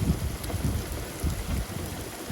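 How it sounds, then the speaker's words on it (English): Rain falls steadily during an evening thunderstorm, a dense close hiss with low rumbling thunder swelling and fading underneath; no voices. "Another thunder and lightning show this evening."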